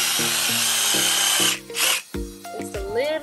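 A power drill bores holes in an aluminum beam, the motor whining in repeated bursts of a few seconds with brief pauses between, close and loud, followed by scraping and handling noises, with a voice speaking briefly.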